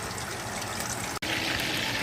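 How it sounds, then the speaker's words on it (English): Marinated porgies frying in hot oil give off a loud, steady sizzle that fills the whole stretch, broken only by a split-second gap near the middle. "The marinated fish, porgies, going into the oil to fry."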